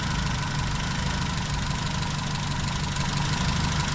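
A car engine with a replaced PCV valve and hose idles steadily, a continuous low hum with a faint rhythmic knock, close and unbroken throughout.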